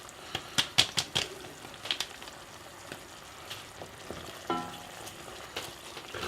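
Thai red curry ingredients, leaves and pepper, tossed into a hot pan, giving scattered crackling sizzles and a few sharp clatters of stirring, close and moderately loud, with no talk.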